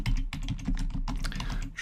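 Rapid typing on a computer keyboard while text is entered into a spreadsheet cell, a close run of quick, uneven key clicks with short pauses between bursts.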